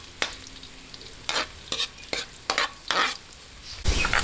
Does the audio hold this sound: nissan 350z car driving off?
no